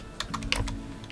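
Computer keyboard typing while entering a search for Etsy listings, a handful of crisp, close key clicks in quick irregular succession over a low background hum.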